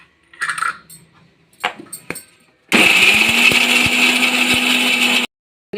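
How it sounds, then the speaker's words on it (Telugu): A kitchen mixer grinder grinds coconut in a loud, steady whir lasting about two and a half seconds, starting and stopping abruptly after a few brief knocks and handling sounds. "ముందుగా కొబ్బరి మిక్సీలో పట్టేసుకుందాం"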